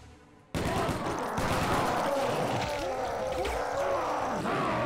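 Enemy gunfire in the video game Brutal Doom V20 Realism, a dense, continuous barrage of shots that bursts in loudly after a brief quiet start and keeps crackling without a break, mixed with game noise.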